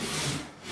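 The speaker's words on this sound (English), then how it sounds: "So I'm sawing directly across the grain." A hand rip saw cuts across the grain of a vertically clamped board in one steady, rasping stroke, close and fairly quiet with no talking.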